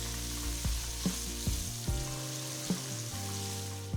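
Asafoetida, chopped green chilies and fresh curry leaves sizzling in a pan of oil: a strong, steady sizzle with a series of regular light taps, as if stirred, and a low hum underneath.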